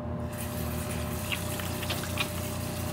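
Tap water running steadily from a faucet during handwashing, a constant close gushing hiss with no pauses and no talking.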